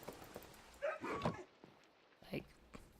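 Dogs barking in Minecraft: a few short, whiny yips and barks spaced apart, fairly faint and close, with a quiet stretch in between.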